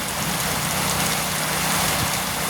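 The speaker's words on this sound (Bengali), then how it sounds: "এখন আর বৃষ্টির জন্য বের হতে পারছি না।" Dense, heavy rain pours steadily, a constant loud hiss of drops hitting surfaces, with no break and no speech.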